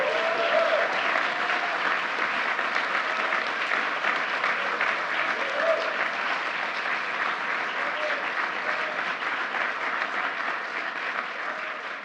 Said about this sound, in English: Let's give one more round of applause for this year's Presidential Freedom Recipient.